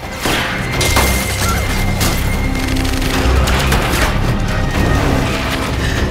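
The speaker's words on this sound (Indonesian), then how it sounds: "Dan terjadilah adegan kejar-kejaran sekaligus tembak-tembakan yang dilakukan tim Moore pada Charles dan Nurul" Dense, continuous bursts of gunfire mixed with booming crashes and shattering impacts during a movie car chase, loud and chaotic throughout with no talking.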